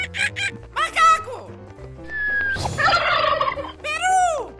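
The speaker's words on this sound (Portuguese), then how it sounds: "Peru!" A cartoon turkey gobbles loudly and clearly, a quick warbling burst amid bright animated bird and animal calls, with a child-like voice naming animals around it.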